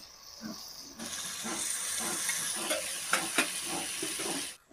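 Water poured onto hot spiced cauliflower masala in a pan, a sudden loud hiss of steam that keeps rushing steadily for a few seconds with scattered spoon clinks, close up and without speech.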